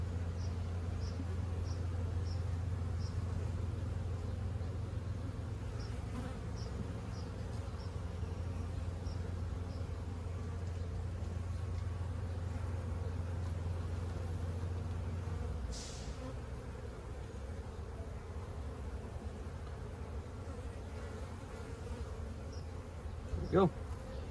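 Dense honey bees buzz around frames lifted from a packed, healthy nuc being moved into a hive, a constant close hum with a low drone that drops partway through and a few faint clicks.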